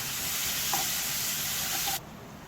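Paneer tikka masala gravy with besan, turmeric and salt sautés in a pan, giving a loud continuous sizzle with faint stirring taps that abruptly drops to a quieter hiss near the end.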